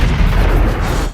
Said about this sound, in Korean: 대포와 같은 위력의 권총탄